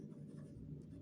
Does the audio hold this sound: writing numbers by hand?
yes